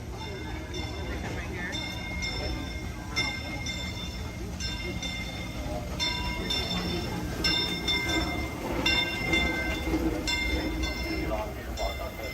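Tomorrowland Transit Authority PeopleMover ride vehicle at Walt Disney World gliding along its track with a steady rolling rumble and faint squeals, while people talk around it throughout.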